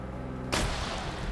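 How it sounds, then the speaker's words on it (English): A single grenade blast in a modern military shooter, a sudden sharp burst midway that breaks over a steady low background hum and trails off into rumbling noise. "And he throws a grenade."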